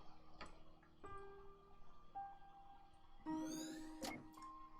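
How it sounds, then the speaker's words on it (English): A clock ticks steadily inside the video game To the Moon, faint and regular, set among soft tonal game music and occasional chime-like notes, with no speech. "Note, clock ticking."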